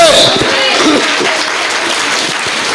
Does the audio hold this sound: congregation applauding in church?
yes